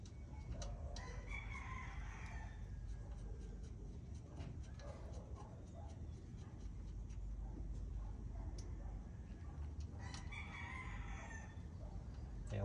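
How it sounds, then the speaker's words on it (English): Roosters crow in the distance near a garage where a 1959 Chevy El Camino project car sits, faint drawn-out calls repeating over a steady outdoor background. "Them damn roosters are weird. They be at nighttime crowing"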